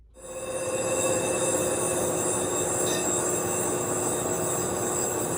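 A lathe spins up and machines a Honda motorcycle brake rotor at S&S Customs, a sustained metallic whine with a steady ringing tone that starts within the first half second and holds loud and even, with no talking.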